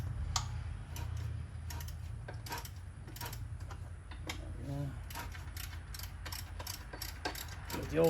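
A ratchet with a deep socket turns a water pump bolt by hand on a Charger 5.7, giving quick irregular clicking bursts over a low mechanical hum, close and fairly quiet.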